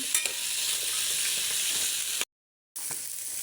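Onions are stirred in a hot frying pan with potato and eggs, giving a steady hissing sizzle with a few clinks of the utensil; a brief dead-silent gap interrupts it before the frying resumes.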